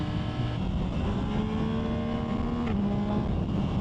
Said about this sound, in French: le bruit de quand on shift, il est vraiment assez sympa